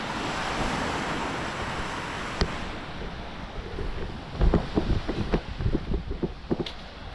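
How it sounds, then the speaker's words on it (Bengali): Sea waves washing onto the shore beside a park in Mumbai, a continuous close roar of surf with wind buffeting the microphone and a few sharper splashes toward the end. "সমুদ্রের ঢেউটা কিন্তু প্রচুর সুন্দর"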